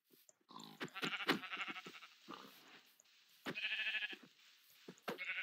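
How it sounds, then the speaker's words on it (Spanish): Sheep in the video game Minecraft bleat repeatedly, a few wavering calls spaced through the stretch, close and clear with no talking. "Vamos, oveja, vente. Ovejas."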